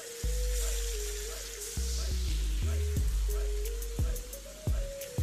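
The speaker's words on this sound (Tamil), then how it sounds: "இதில் நம்ம ப்ரானை போட்டு பொறிச்சிடலாம்." Prawns frying in hot oil in a biryani pot, a steady bright sizzle punctuated by low thumps and clatter as the pot is handled nearby.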